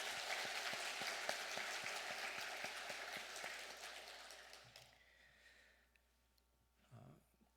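A church congregation applauds in a faint, distant burst of clapping to thank the women's mission society after a bazaar; the claps thin out and die away, followed by a single soft thump.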